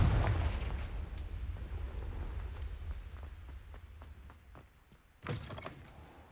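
A Confringo fire spell in the video game Hogwarts Legacy booms as a heavy explosion that decays into a long rumbling tail scattered with sharp crackles, followed by a second loud blast near the end.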